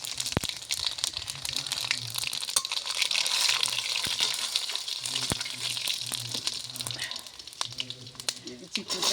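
Whole spices, dried red chilli among them, tempering in very hot oil, a bright continuous sizzle and crackle with scattered pops and stirring scrapes.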